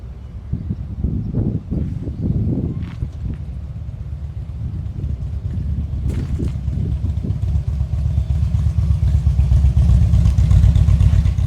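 A Harley-Davidson motorcycle rides along with a loud, steady engine rumble that builds toward the end. Wind buffeting and some clatter blow across the microphone.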